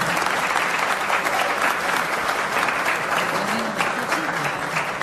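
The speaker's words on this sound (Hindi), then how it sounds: "आप सभी से अनुरोध है कि आप जोरदार तालियां बजाकर इन नायाब नवीनों का हार्दिक" Loud, sustained applause from a gathered audience honouring Himachal Pradesh Kabaddi players who won Asian Games gold, steady dense clapping throughout with a faint voice underneath.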